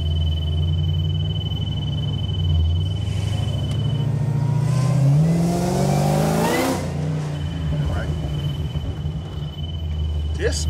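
A 1975 Chevrolet Caprice Classic with a swapped LT4 engine and 10-speed transmission revs up from a deep idle, climbing loudly in pitch before settling back into a low rumble, close by.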